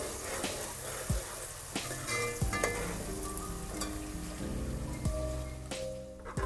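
Steady sizzling of onions frying in a pan, with occasional louder crackles and pops, close up and without any talking.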